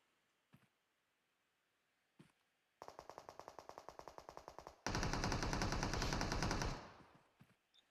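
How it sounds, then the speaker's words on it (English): PUBG gunfire in a match: a couple of isolated shots, then a rapid burst of automatic fire, followed by a louder, denser sustained volley that fades out, with a stray shot after. "And shots are still being fired as Deadpool and Jacko start pushing"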